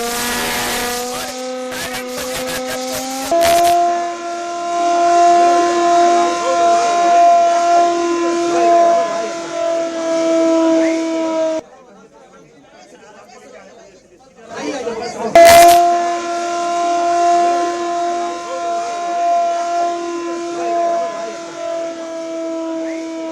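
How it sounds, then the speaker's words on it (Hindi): A hand-cranked siren is wound up during a mock drill, giving a loud, sustained rising wail that holds steady, breaks off briefly while the cranking pauses, then winds up again, with people chattering nearby. "ये हैंड सायरन है, इसको इस तरह से आप जब घुमाएंगे, जितनी तेज घुमाएंगे आप इसको उतनी तेज इसमें सायरन बजेगा"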